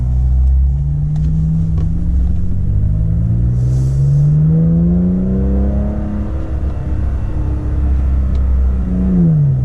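Toyota Tacoma pickup held in first gear in sport mode, its engine revving loud and close with rising and falling pitch sweeps as it accelerates without upshifting.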